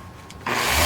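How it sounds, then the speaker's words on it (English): Sanding hardened Bondo body filler on a Telecaster guitar body: a brief quiet lull, then an abrupt, steady abrasive rubbing that grows louder and continues close to the microphone. "we're going to sand it all down and just see how smooth this thing's going to get"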